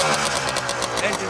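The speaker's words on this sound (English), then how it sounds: "Engine's tight. Got a lot of power for a 175." A 1971 Greeves Puch 169cc Pathfinder two-stroke motorcycle engine runs close and loud with a rapid buzzing, knocking pulse, while someone talks over it.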